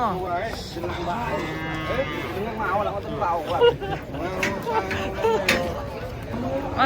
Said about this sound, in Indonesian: Ada sapi naik turun